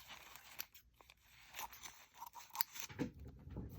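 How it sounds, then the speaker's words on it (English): Scissors cutting down a plastic bottle up close, with irregular crunching snips and crinkly plastic crackles at low volume. "I'm going to cut this down because I don't need all of this."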